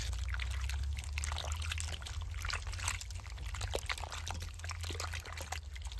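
Ash gourd pieces are rinsed in clean water while making ash gourd sweet, with a continuous close splashing and trickling of water, steady and moderately loud with no talk.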